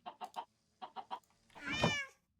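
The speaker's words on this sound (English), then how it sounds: "cat sounds excited about the salmon" A very hungry cat meows eagerly for salmon, a single drawn-out, fairly loud cry following a few short, softer vocal sounds.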